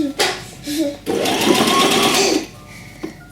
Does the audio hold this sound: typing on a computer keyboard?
no